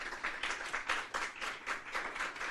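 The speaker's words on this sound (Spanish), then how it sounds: "Les pido, jóvenes, que se pongan de pie para darle un fuerte aplauso al doctor." Young audience members rise to applaud a doctor after his presentation on endovascular treatment of gastrointestinal bleeding, the clapping surging in quick, regular pulses, moderately close and steady, with no talk over it.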